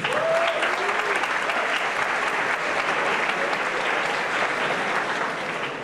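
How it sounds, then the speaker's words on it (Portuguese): Sustained applause from a large crowd at the BIG Festival 2018 awards ceremony, steady and full for several seconds before tapering slightly at the end. "Uma salva de palmas para eles também."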